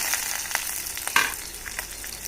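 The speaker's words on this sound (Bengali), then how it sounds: "তারপরে পেঁয়াজ কুচি তেলের মধ্যে দিয়ে দিলাম।" Chopped onion fries in hot oil with dried red chilli for a Bengali egg and bottle gourd curry, giving a steady soft sizzle with a few brief crackles and pops, close and alone with no talk.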